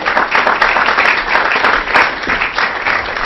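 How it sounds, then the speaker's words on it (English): Steady applause from an audience at a Heritage Foundation event, dense continuous clapping filling the room at full volume for a few seconds with no voices on top. "everybody applauds me"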